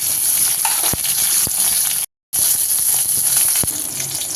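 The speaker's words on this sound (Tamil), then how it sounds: "சின்ன வெங்காயம் சேர்த்து நல்லா வதக்கிக்கலாம் இஞ்சியும் பூண்டும் வந்து சேர்த்துக்கலாம்" Shallots, ginger and garlic sautéing in a hot pan for black urad dal chutney. A continuous close hiss and crackle runs throughout, with a few sharp ticks and a brief silent cut midway.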